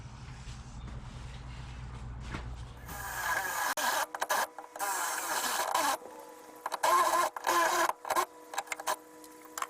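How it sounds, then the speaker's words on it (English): A power drill bores a hole in a Datsun 510 front seat rail in a workshop, whirring and grinding in short, loud, close bursts that stop and start again. "Now I just gotta drill."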